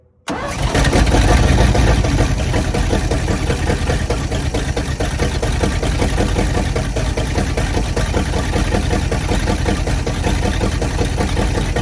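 A 1957 GMC 350 truck engine, run for the first time after 37 years, cranks and catches, then settles into a loud, steady, close idle with an even rhythmic chug throughout.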